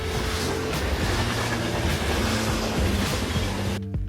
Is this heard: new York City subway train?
yes